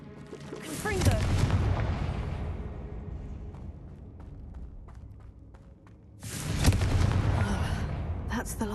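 The Confringo blasting spell goes off in the video game Hogwarts Legacy as two loud, booming fiery explosions a few seconds apart, each trailing into a rumbling decay, with quieter game effects crackling between them.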